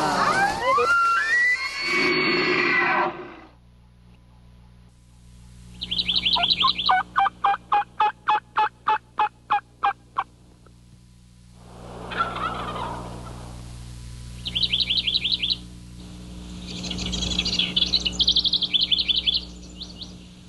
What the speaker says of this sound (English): The hen mating call.